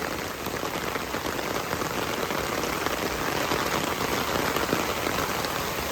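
Heavy rain in the Bangladeshi rainy season pours steadily onto surfaces nearby, a dense, even hiss of countless drops with no talk over it.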